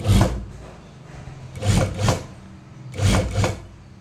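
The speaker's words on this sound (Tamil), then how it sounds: "சும்மா டம்மியாக தைச்சி காட்டுறேன்" A sewing machine stitching a dummy neck design on a garment, short bursts of rapid mechanical stitching in separate spurts, close, with quiet pauses between them.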